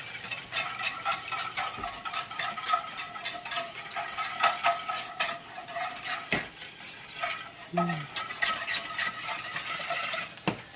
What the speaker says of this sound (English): the key is whisking quickly, adding milk, and you never stop whisking it together